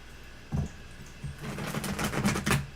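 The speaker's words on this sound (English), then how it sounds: "One more shuffle." Soft rustling and brisk papery riffles of tarot cards being shuffled, building into a quick flurry of crisp taps near the end.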